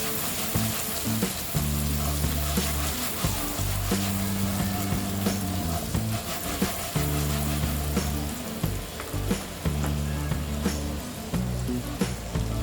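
Cut okra (bhindi) fries in a pan and is tossed rather than stirred, producing a constant crackling sizzle under rhythmic background music.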